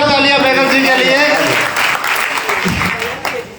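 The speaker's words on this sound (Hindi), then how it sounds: "जोरदार तालियां बैनर जी के लिए" Audience applause at a Jain kavi sammelan poetry gathering, a dense, steady clapping wash that fills the clip and eases slightly toward the end, with voices mixed in over it.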